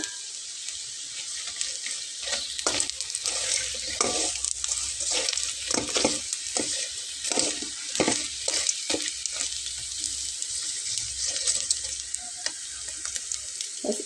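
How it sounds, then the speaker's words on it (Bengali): Potato roll samosas deep-fry in a pan of hot oil, giving a loud, dense, continuous bubbling sizzle close up, with light taps and stirring clicks scattered throughout. "একইভাবে অন্যগুলোকে আমি ভেজে নেব।"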